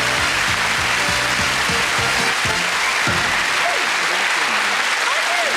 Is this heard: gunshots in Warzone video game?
no